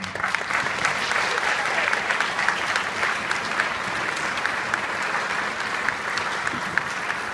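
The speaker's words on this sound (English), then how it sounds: "So give them a round of applause." An audience applauds two orchestra award recipients with sustained, even clapping from many hands that holds steady for over seven seconds in an indoor hall.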